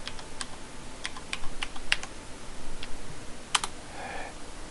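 A password being entered on a computer keyboard: a run of sharp, close key clicks in uneven bursts, a few quick strokes grouped together with short pauses between them, and no talking.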